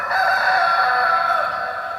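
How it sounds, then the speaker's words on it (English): A cockerel crows early in the morning, one long sustained cock-a-doodle-doo, loud and close, with no talking over it. "I was woken up by the sound of the cockerel."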